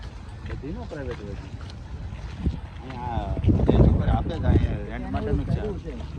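A continuous drone of a private boat cruising on canal water in a mini-Venice European town, wind gusting across the microphone, while several people chat loudly nearby.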